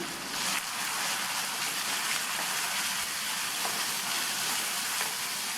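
Onion and crushed garlic sautéing in a pan, a steady close hiss of frying that runs unbroken for several seconds with no talking.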